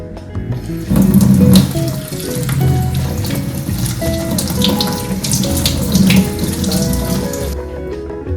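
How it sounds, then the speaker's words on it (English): Tap water runs steadily over dried kelp being rinsed in a sink, a continuous close splashing stream with no talking. "Firstly, I'll be rinsing these dried kelp."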